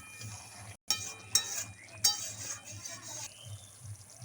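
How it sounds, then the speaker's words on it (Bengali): A spoon clinks against a pot while stirring sugar into restaurant-style egg curry gravy. There are three sharp metallic taps amid soft scraping, close and fairly quiet, with a faint voice underneath. "চিনিটা খুব ভালো করে মিশিয়ে নেব ঝোলের সঙ্গে।"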